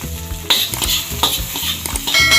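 Onion and garlic sauté in a pan with a loud, close sizzle, broken by several sharp utensil clinks and scrapes as the pieces are stirred.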